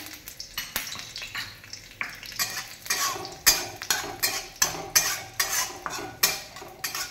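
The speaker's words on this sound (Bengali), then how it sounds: "শুকনো লঙ্কাটা ভাজা ভাজা হলে" Dried red chillies frying in oil in a kadai, a soft sizzle under rhythmic, repeated scraping and clinking of a spatula against the pan, about one stroke every half second.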